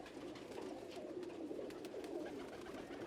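Pigeons of Ustad Dilawar Khan breeds, kept for sale, coo in a soft, continuous low murmur that carries steadily and fairly quietly throughout with no talking over it.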